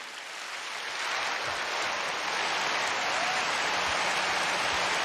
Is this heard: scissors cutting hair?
no